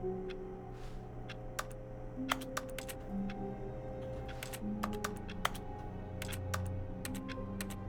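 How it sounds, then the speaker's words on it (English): Computer keyboard typing heard during a first playthrough of The Stanley Parable, a steady run of sharp, quick key clicks over a low hum of game music and ambience. "Why does it sound like a keyboard?"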